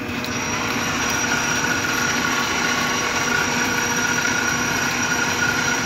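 A South Bend lathe runs with its gears engaged, giving a loud, steady mechanical drone with a constant whine and grinding hum and no voices.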